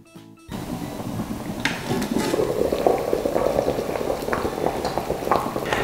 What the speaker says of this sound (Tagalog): At pabayaan lang natin kumulo.